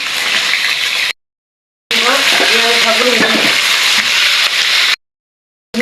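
Beef roast frying in oil and being stirred, heard as a loud, close, steady sizzle broken by scraping stirring strokes, with two short breaks of silence.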